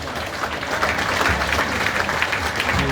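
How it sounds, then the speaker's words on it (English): An audience at a formal bicentennial celebration applauds steadily, a dense, continuous wash of clapping at close range for the full three seconds, with no speech over it. "Another round of applause."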